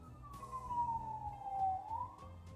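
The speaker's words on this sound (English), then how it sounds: "I can't tell the difference between a police car and an ambulance sound." A police car or ambulance siren wails in the distance, one long gliding tone that falls and then rises again, fairly faint and steady with no talk over it.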